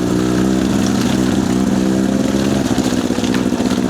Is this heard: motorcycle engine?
yes